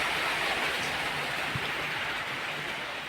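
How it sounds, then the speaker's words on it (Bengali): Heavy rain pouring steadily outdoors, a dense even hiss of falling water with no pauses, moderately loud and without voices. "তোমরা তো দেখতেই পাচ্ছ এত বৃষ্টি পড়ছে, জোরে বৃষ্টি পড়ছে।"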